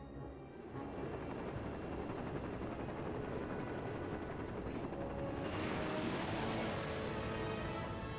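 A helicopter in the LEGO Batman video game, a steady whirring rotor and engine drone filling the scene, loud and continuous with a brighter swell near the end.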